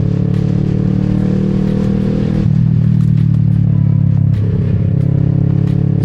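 Kawasaki Z650 parallel-twin motorcycle engine while riding, a loud, close, steady droning hum that shifts pitch midway as the rider changes speed or gear, with wind noise on top.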